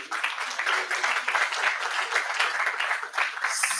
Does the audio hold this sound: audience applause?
yes